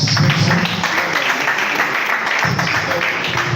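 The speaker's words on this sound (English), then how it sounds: "Can we give him a round of applause?" A graduation audience at a mentorship ceremony gives a steady round of applause for an introduced speaker, fairly loud and continuous with some voices underneath.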